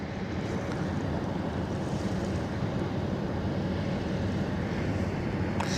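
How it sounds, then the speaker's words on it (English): Ship Begonia, a DFDS vessel, powering past at full throttle on the Westerschelde, a steady broad engine rumble blended with wind buffeting and water wash, continuous and fairly loud throughout. "look at the begonia pushing power. Full throttle ahead."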